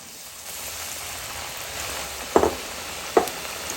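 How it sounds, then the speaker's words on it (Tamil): Raw papaya chips fry in sunflower oil with a soft continuous bubbling hiss, broken by two sharper crackles or spatters near the end; close, with no talk. "இப்போ ஸ்டார்ட் பண்ணலாம் ஃப்ரை பண்ணுறதுக்கு"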